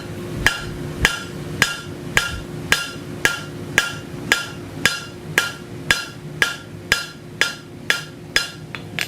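Hot steel is struck on the horn of an anvil while forging, a steady series of about seventeen ringing hammer blows evenly spaced and close, with no talk.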